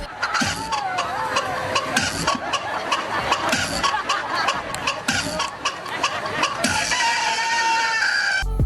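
A rooster crows several times, loud and close, over clucking fowl at an Indian wedding dance, with a busy mix of background noise and a brief car sound in the mix.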